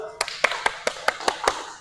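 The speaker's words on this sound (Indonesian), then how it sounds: "Tepuk tangan dulu lah" Students in a classroom clap in a quick, even series of about seven sharp claps, close and distinct over a faint room hum.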